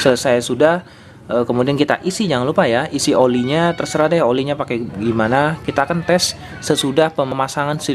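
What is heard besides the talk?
No distinct noise like a dog, phone or traffic.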